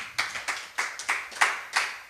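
A church congregation claps in acclaim of the Lord, sharp, steady unison claps roughly every quarter second, loud and close with no talking.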